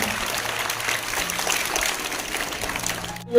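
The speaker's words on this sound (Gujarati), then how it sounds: "તાળવીના ગરગાટથી આપણે વધાવીશું" A crowd at a primary school Independence Day celebration claps steadily for several seconds, a dense, even patter of applause that fades at the very end.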